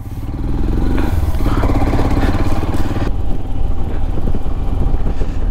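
A motorcycle engine runs steadily and loudly in minus 5 degree cold in Spiti Valley, with a continuous throbbing rumble held up close for the whole stretch.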